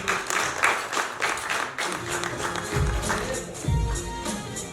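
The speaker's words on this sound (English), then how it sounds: "A big round of applause, everybody." Audience applause greeting the hosts at the launch of a television show, a steady wash of claps with some low thumps, moderately loud.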